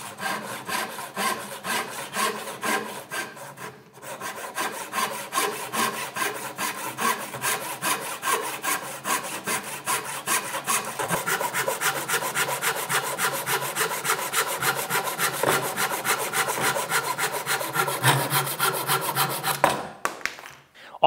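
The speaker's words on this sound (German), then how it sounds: "Ich säge jetzt einfach mal gerade und wir gucken, ob sich das doll bewegt oder nicht." Hand sawing wood on a light workbench with a front vise: a long run of rapid, rhythmic rasping strokes, close and steady, with a short pause early on and the cut ending abruptly near the finish.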